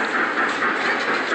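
A train runs along its rails with a steady broadband rumble and rattle throughout, fairly loud and continuous, with no voices over it.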